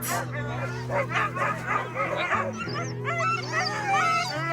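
Many agitated sled dogs bark in short bursts and then shift into high, wavering whines and yelps, loud and continuous.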